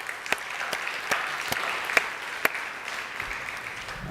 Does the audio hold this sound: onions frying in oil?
no